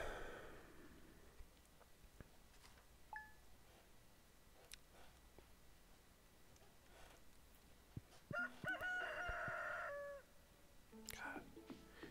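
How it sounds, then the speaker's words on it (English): A rooster crows in the Stardew Valley farming game, one short bright call near the end after a quiet stretch, with faint talk and room noise underneath. "These roosters, they can get away with waking up screaming every morning."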